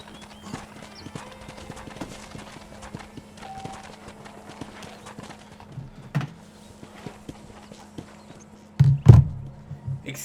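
Horse hooves clip-clop at a steady walking pace while riding in Red Dead Redemption, soft and even beneath light game ambience, ending in a louder burst of snorting or whinnying near the end.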